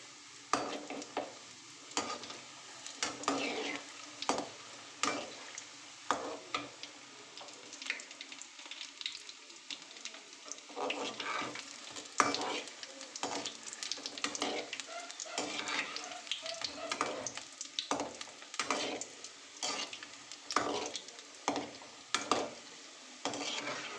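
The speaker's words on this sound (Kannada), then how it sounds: "ಈಗ ಉಂಡೆಗಳನ್ನು ಬಿಡೋಣ ಫ್ರೆಂಡ್ ಈಗ ಇದನ್ನು ಚೆನ್ನಾಗಿ ಫ್ರೈ ಮಾಡಿ ತಗೊಳ್ಳೋಣ" Gulab jamun dough balls fry in hot oil over a low flame, giving a steady close sizzle broken by frequent sharp clicks and scrapes of a spoon or ladle, with no talking.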